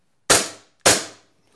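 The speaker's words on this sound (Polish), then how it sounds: "Ogień pojedynczy." Two sharp, snappy shots from a WE Glock 26 (G005) airsoft pistol firing single shots, about half a second apart, each with a short decaying tail.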